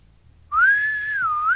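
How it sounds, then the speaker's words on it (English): A single clear whistle rises after a brief pause, holding a steady, slightly wavering tone for about a second, close and fairly soft. "He whistled."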